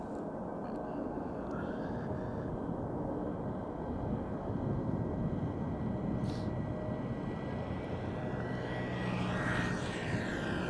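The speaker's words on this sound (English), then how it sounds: "Turkish Airlines flight 1952 going to Istanbul, Airbus A330-300." Turkish Airlines Airbus A330-300 on flight 1952 to Istanbul at Schiphol Airport, a continuous moderate jet rumble heard from a distance with wind noise, the engine whine rising slightly near the end, and faint talk underneath.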